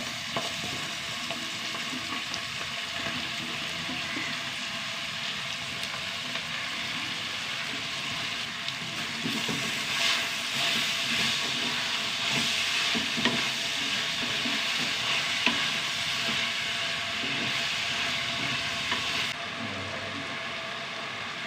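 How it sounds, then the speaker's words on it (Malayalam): Spinach dropped onto onions frying in a pan sizzles steadily throughout, with continuous close stirring and scraping on top and no talk. "ഇനി ചീരയിട്ട് കൊടുക്കാം ഒരു പിടി ചീര"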